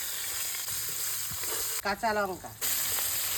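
Cauliflower frying in hot oil with whole cumin seeds and grated ginger gives a steady, close sizzling hiss throughout, briefly interrupted by a short spoken phrase partway through.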